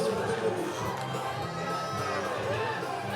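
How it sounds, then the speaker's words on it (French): Dense crowd at the bottom of the steps on the Cannes 2018 red carpet for the Solo: A Star Wars Story premiere, a close continuous wash of chatter, calls and excited shouts all around. "En plein milieu de cette foule-là."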